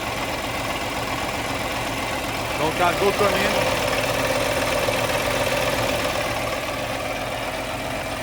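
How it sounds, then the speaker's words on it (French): A Kenworth W900L truck engine idles with a steady, deep, even rumble that continues throughout, while someone talks briefly over it. "Donc voilà, moteur allumé."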